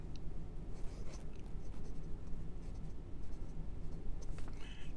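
Jinhao X350 steel fountain pen with a size 6 Fude nib writing on Clairefontaine 90 GSM paper, soft close scratchy strokes in quick irregular bursts, alone without talk.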